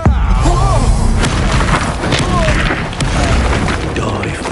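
Confringo explosive spell cast in Hogwarts Legacy, a loud, dense burst of booming blasts filling the scene, with a sharp crack near the start and rolling rumble throughout, amid game noise.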